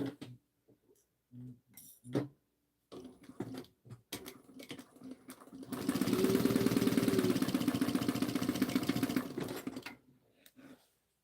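A home sewing machine stitches a folded lining slip pocket for a Burcham garment, running steadily for about four seconds mid-clip between short bursts and taps, with a rapid mechanical whirring hum, close and fairly loud.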